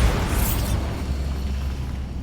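A Bombarda spell explodes in Hogwarts Legacy, a heavy, rumbling boom whose bright burst fades into a sustained low roar lasting a couple of seconds, with no voices over it.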